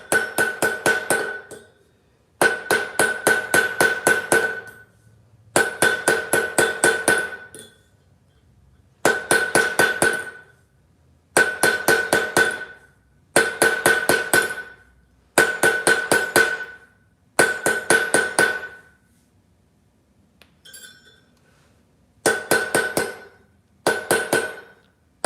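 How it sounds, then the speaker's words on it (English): Hammer striking a metal charm bracelet on an anvil, rapid bursts of bright ringing blows in regular clusters, loud and close, with short pauses between each run of strikes. "we'll need to come to the flat surface of the anvil and flatten it out"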